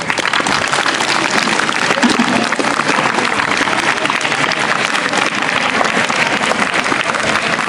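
Sustained audience applause at a school debate competition, a dense steady clapping from a sizeable crowd filling the room for several seconds without pause.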